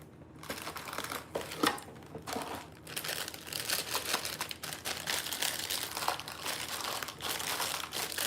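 A bag of yellow cake mix is crinkled and torn at in a home kitchen, close-up crackling and rustling in irregular bursts that continue for several seconds.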